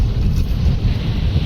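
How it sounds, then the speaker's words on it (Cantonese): Strong typhoon wind and rain batter a car on the road, a loud, constant low roar of gusts buffeting the microphone, filling the whole moment without any voices. "依家啲風大到好誇張啊！"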